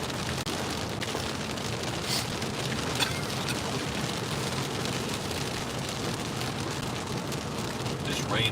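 Steady rain falls under a bridge beside Big Cabin Creek, a dense, even hiss of drops that holds through the whole stretch, with a few louder drips and splashes standing out close by.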